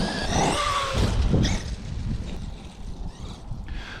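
A Traxxas E-Revo RC truck drives on a street, its electric motor whining loudly up close and then easing into a fainter, steady run as it pulls away, with tire noise and no speech.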